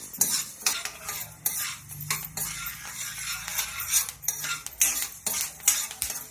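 Horse gram dry-roasting in a pan, with continuous light crackling and repeated scraping and clinking of a spoon stirring the grains, close and steady throughout with no talking.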